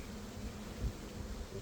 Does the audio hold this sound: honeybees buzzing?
yes